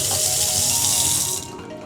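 A kitchen faucet in a house in Merrillville, Indiana runs in a steady, loud rushing stream that drops to a quieter flow near the end.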